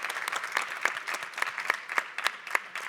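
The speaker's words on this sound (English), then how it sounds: "let's clap all of them because all of them deserved it" An audience at a startup pitch competition applauds, dense overlapping hand claps forming a steady, fairly faint wash of clapping throughout with no talk standing out.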